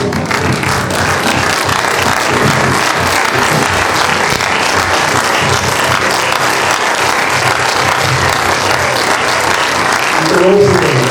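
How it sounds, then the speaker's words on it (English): Sustained applause from a university lecture audience clapping for their lecturers, dense and steady throughout at close range, with no speech over it. "please let me clap for all your lecturers here once more"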